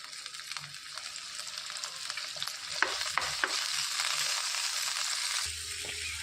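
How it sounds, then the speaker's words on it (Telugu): Tomato pieces fry in a pan for carrot pachadi, making a soft, steady sizzle with occasional small clicks of stirring, fairly quiet throughout and with no talking. "టమాటా ముక్కలు వేసి వేయించుకోవాలి"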